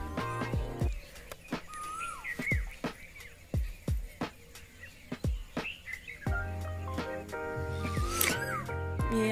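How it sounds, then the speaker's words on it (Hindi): Birds calling and chirping at dawn in a rural Indian setting, said to include a koel, with repeated short calls near and far over quiet background, plus occasional sharp percussive knocks and distant animal sounds. "ये यहाँ पे कोयल बोल रही है,"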